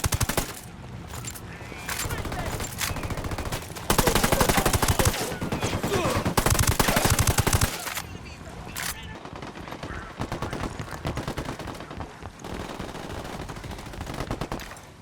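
Gunfire in the video game Tom Clancy's Ghost Recon Wildlands during a smuggling operation: dense, loud bursts of automatic fire and single shots in waves over fifteen seconds, with brief pauses.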